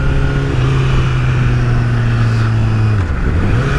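A Honda CBR1000RR Fireblade SC59 superbike, flashed with a Power Commander, accelerates with a loud, steady engine drone that climbs in pitch, dips briefly at a gear change, then rises again.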